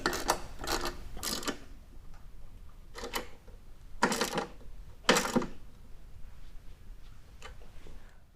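A ratchet wrench clicks in short bursts while a flange nut with washer and lock washer is tightened on a 2018 Ford F-150 nerf bar bracket, close and fairly clear, several separate runs of rapid ticking.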